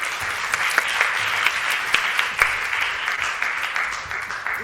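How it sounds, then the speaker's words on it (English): Sustained audience applause at a dermatology scientific meeting session, a dense steady wash of many hands clapping in a hall, fairly loud and even throughout with a few sharper claps standing out. "I want to give another round of applause to our amazing speakers."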